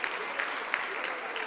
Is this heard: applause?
yes